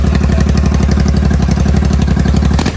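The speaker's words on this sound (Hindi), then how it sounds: "विदाउट एग्जॉस्ट साउंड सुनो" Royal Enfield 650 twin idling with one exhaust removed: a loud, close, rapid chugging beat with harsh, uneven pulses that stays steady and unbroken by talk.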